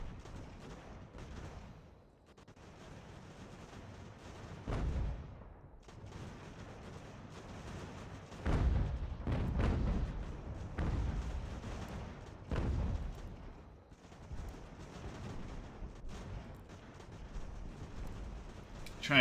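Heavy artillery volleys boom in a battle from the strategy game Ultimate General: American Revolution, with several loud bursts and rolling rumbles rising above a steady field of distant gunfire.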